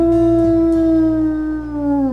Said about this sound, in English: Now, if we howl.